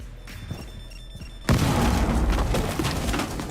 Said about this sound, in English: if you want to dive more into the chaos potential of the operator, we bring flashbangs